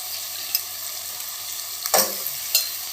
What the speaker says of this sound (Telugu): అనప గింజలు విత్ ఆలుగడ్డ వేసుకొని కట్ చేసుకొని వేసుకుంటే నూనెలో బాగా ఫ్రై అయ్యిందంటే మంచిగా ఉడుకుతాయి